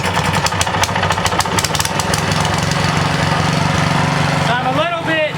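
Small petrol engine of a walk-behind lawn aerator running at partial throttle steadily and loudly nearby, with a short rising whine near the end.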